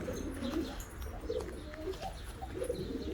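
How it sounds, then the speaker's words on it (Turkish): Pigeons coo in soft, repeated low throaty calls, several overlapping at close to mid range over a steady background hum, with faint chirps and no speech. "Siz güvercinleri seyredin"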